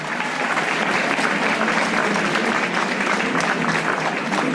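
Audience applause at a French charity gala in La Réunion, following a donation announcement: dense, steady clapping from a large crowd holding at an even level throughout, with no voices over it.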